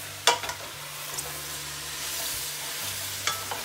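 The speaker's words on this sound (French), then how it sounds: "Alors je les brasse ici un peu." Mushrooms with garlic and lemon juice sizzle in a pan, a steady hiss broken by a few sharp scraping knocks as a utensil stirs them.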